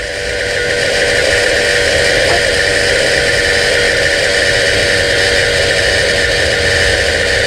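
The electric inverter coolant pump on a 2009 Toyota Prius runs with a constant close whir and hum, holding steady for several seconds alone without voices.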